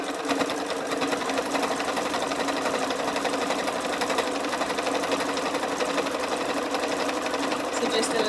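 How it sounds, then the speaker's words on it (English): Domestic sewing machine running a zigzag stitch along a folded fabric edge, a steady fast mechanical whir and needle clatter held at an even pace throughout, close and continuous, with a voice talking over it. "we're simply going to sew along this folded edge here. So I'm going to select the zigzag stitch on my machine."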